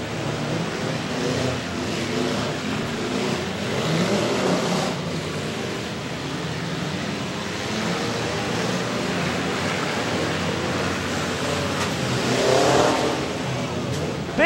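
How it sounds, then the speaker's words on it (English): A four-cylinder demolition derby car revs loudly at a county fair, its engine roaring continuously amid other cars and crowd noise, with a faint announcer voice underneath. "These four cylinders as loud as the eight."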